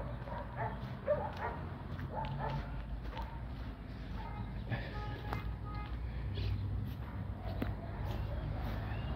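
A small dog yips and whimpers in short bursts amid outdoor background noise, while a person speaks quietly at times.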